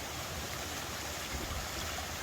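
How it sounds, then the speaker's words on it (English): A small river on the Appalachian Trail, splitting three ways, rushes in a steady, close, even wash of flowing water with no voices. "Oh, this little river is going three directions right here."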